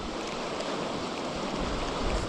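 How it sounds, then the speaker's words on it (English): Moving water at an aqueduct gives a steady, broad rushing wash, close and continuous with no voices. "this water is moving too much"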